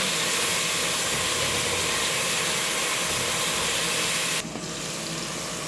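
Tomatoes hitting hot oil with garlic and onion for kabsa chicken, a steady loud broadband hiss and sizzle that drops sharply to a quieter simmer near the end.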